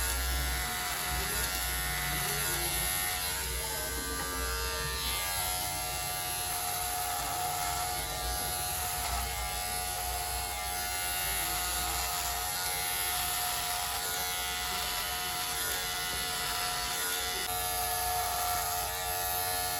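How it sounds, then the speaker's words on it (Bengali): Electric hair clipper buzzing continuously and steadily up close while it is run along the lower side of the head, held against a comb, during a high fade haircut. "দেখো কেমন করে চেরুনি দিয়ে ধরছি আর নিচে দিয়ে মেশিনটা চালাচ্ছি"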